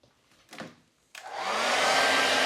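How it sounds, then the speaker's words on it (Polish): A hair dryer switches on after a few quiet handling sounds and runs loud and steady, drying freshly rinsed wedding rings with diamond-cut silver inlay in a goldsmith's workshop. "wykorzystujemy tak specyficzne narzędzie, jakim jest suszarka do włosów"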